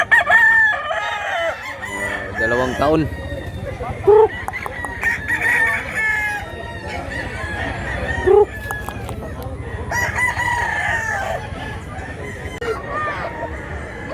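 Roosters crow repeatedly at a poultry market in Mantalungon, Cebu, several loud nearby crows and clucks rising over steady chatter, with someone talking throughout.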